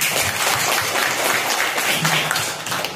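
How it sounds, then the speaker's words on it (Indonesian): Schoolchildren in a classroom break into a second round of clapping, a dense, steady patter of many hands lasting about three seconds, close and fairly loud. "Kurang semangat tepuk tangannya."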